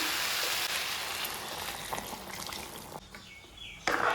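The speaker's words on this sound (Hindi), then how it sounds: "अभी मैं इसमें पानी डालेंगे," Hot water poured into a pot of dal, a steady broadband splashing and trickling that runs for about four seconds and drops off near the end, with a brief clatter at the finish and no talk.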